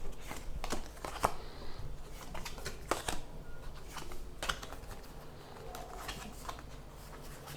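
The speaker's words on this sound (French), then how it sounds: "je refais ma main à 3 cartes" Playing cards handled during a tabletop card game, with a run of soft, quick clicks and slaps as cards are drawn and sorted, close and moderately loud with no talking.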